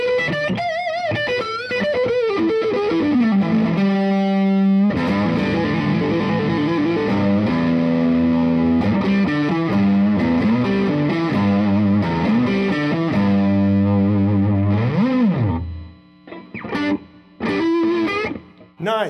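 Electric guitar run through a DV Mark Multiamp preset with distortion, playing sustained lead lines and chords loudly and continuously before thinning into short bursts near the end.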